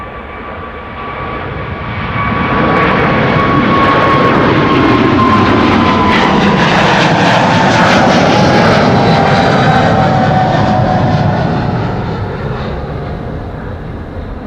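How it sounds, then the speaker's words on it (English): KLM Flight 743 to Lima departs Schiphol, its jet engines building to a loud, sustained roar with a steady whine riding over it, then slowly easing as the airliner climbs away. "this is KLM Flight 743, which will be going to Lima in Peru"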